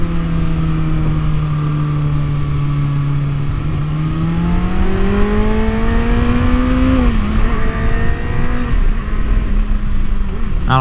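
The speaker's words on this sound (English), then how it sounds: "This quick shifter, I feel like sometimes your quick shifter gives you a harder shift than it would if you just did it yourself" A 2023 Kawasaki ZX-6R motorcycle runs loud and steady throughout, its engine note rising and dipping through gear changes made with a quick shifter. A sharp shift lands around the middle, and no one speaks.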